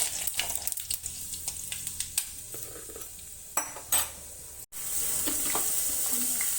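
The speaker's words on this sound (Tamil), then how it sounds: "கொஞ்சம் வெங்காயம் போட்டுக்கிறேன்" Onions dropped into hot oil for tempering in a lentil-ball curry, with sizzling frying, spoon stirring and scraping clinks against the pan, close and busy, ending in a steady loud sizzle.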